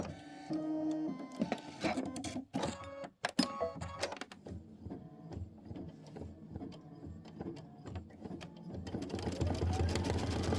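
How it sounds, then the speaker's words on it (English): A Kimberbell embroidery machine stitches a mittens block, a close mechanical whirring with rapid needle rhythms, brief stops and starts, and a louder steady run toward the end. "This is going to be 5 minutes of stitching."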